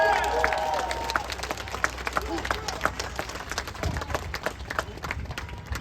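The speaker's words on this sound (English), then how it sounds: "Give yourselves a round of applause" Rally audience at a Washington DC reparations event applauding steadily, a dense wash of many hands clapping that holds at a fairly even level from start to finish, with faint crowd voices mixed in.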